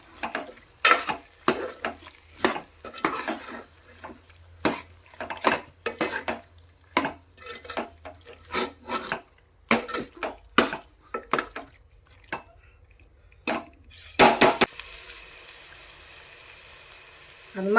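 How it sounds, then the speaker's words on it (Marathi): A spoon stirs Malvani fish curry in a pot, scraping and knocking against the metal in irregular bursts at close range, with a louder clatter near the end. "आता हे हलवून घेऊ."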